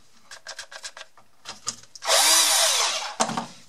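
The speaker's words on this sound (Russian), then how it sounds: "Я сюда вставляю шуруповерт" Cordless screwdriver powered from a car jump starter, a few short clicks and handling taps followed by a loud close whirring run of about a second that cuts off abruptly.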